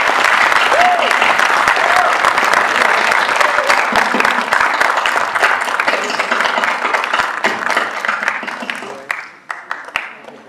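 Loud crowd applause for winners at a youth conclave event, steady dense clapping that tapers off in the final seconds, with a faint voice briefly underneath.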